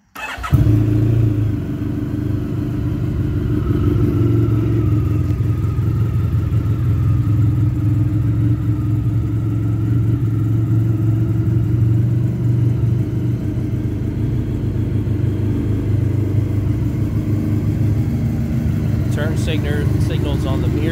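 A fuel-injected, liquid-cooled 2010 Honda VFR1200F DCT motorcycle cranks and catches at the start, then idles close by in a steady, smooth low rumble that holds evenly to the end, with a faint clicking near the finish.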